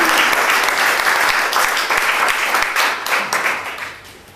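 A literary evening audience applauding, dense and loud clapping from many hands close by, holding steady for several seconds before fading out.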